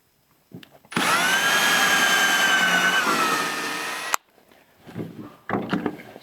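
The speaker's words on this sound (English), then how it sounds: "Just drill 2 small pilot holes." A power drill whines steadily for about three seconds, its pitch sagging slightly as it bites a shallow pilot hole into wooden stock, followed by quieter handling noises.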